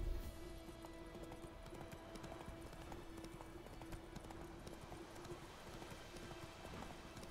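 A horse gallops in The Witcher 3 video game, its rapid clip-clop hoofbeats drumming steadily and evenly throughout, with a faint game tone looping underneath.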